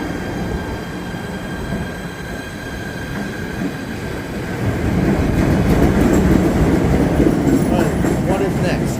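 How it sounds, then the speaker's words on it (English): A PATH train passes at Harrison station, its rumble swelling loud partway through with faint wheel squeal and clattering over a steady platform hum. "The third train that's coming"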